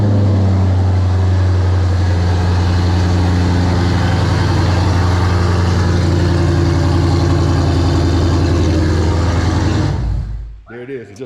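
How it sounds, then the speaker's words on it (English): A Dodge Scat Pack with an aftermarket catback exhaust idles loudly after a cold start, a steady deep rumble held for about ten seconds before the engine abruptly cuts off. "we're going to go ahead and get the car started up"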